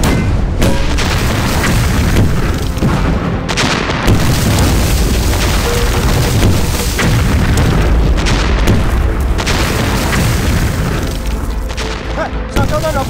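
A war film's artillery barrage against Japanese forces: continuous heavy booms and blasts roll through the whole stretch, dense and loud, with shouted voices partly buried in the gunfire.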